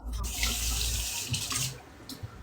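Kitchen tap water pours steadily into a sink while olives are rinsed, a close, loud gushing stream that briefly shifts as the flow is interrupted and splashes.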